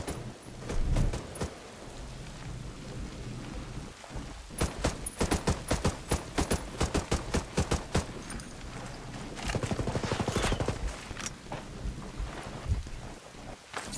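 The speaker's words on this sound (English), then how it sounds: "Hostiles are shooting." Gunfire in the multiplayer shooter Ghost Recon Breakpoint, several quick bursts of sharp shots at moderate distance over steady background noise, quieter stretches between them.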